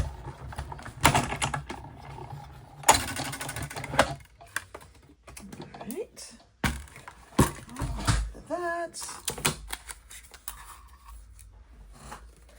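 A manual die cutting machine cranks a stack of plates, arch dies and patterned paper through, giving intermittent clicking, ratcheting clatter in uneven bursts with quiet gaps and a brief voice in between.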